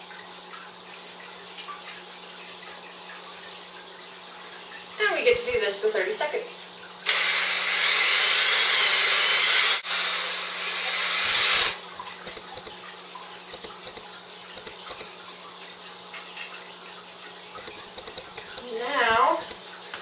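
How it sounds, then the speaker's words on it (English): A power drill drives a wine whip to stir and aerate wine must during home winemaking, making a loud whirring, splashing churn for a few seconds in the middle. A person talks before and after it. "Now we need to stir our must for about 30 seconds to aerate. And we have a wine whip here attached to our drill."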